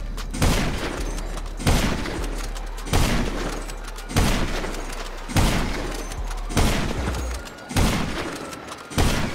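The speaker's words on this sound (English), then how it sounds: "I did shoot eight shots." Eight evenly spaced sniper rifle shots from GTA 5, each a loud, sharp boom with a short rumbling tail, fired about once every second and a quarter.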